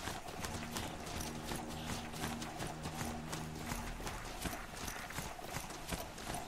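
A Strider, a robotic horse-like machine mount in Horizon Zero Dawn, runs with a steady rapid clip-clop of hooves over a constant busy game soundscape, with a low droning music bed underneath.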